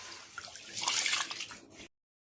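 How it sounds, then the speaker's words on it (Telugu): Rice for Andhra ariselu being rinsed in water before soaking, a splashing, swishing wash that swells in the middle and stops abruptly, close and fairly soft. "నీట్గా కడిగేసి నీళ్ళు ఇచ్చుకునేసి నానబెట్టేస్తున్నా"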